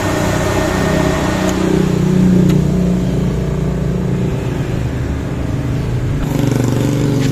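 The electric radiator fan of a Toyota Corolla Altis 1.8G whirs steadily and loudly close by, a continuous broadband rush with some engine-like hum underneath.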